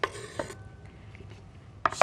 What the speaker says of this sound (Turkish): Şöyle ufak ufak doğrayayım peynirimi de.